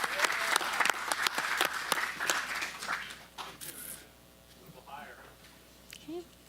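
A meeting audience applauds college interns, a short burst of clapping that fades after about three seconds, followed by quieter room sound with faint voices.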